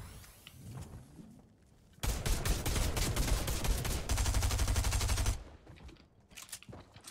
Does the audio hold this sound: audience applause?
no